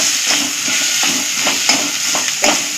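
Onion-garlic masala, two spoons, with a little coriander frying in a pan, a close, continuous sizzle broken by repeated rhythmic stirring scrapes.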